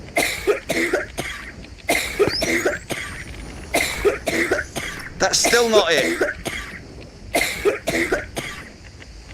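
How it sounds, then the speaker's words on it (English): Player character in the Into the Radius video game coughing from gas, a run of harsh, close coughs and throat clearing in bursts, with someone talking over and between them. "That's a lot of coughing, but not a lot of life loss"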